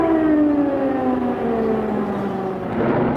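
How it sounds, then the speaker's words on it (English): Civil defense air raid siren blaring across a capital city during wartime, a loud sustained wail with a slowly falling pitch, steady and alone with no talk. "Air raid sirens blared out across the capital"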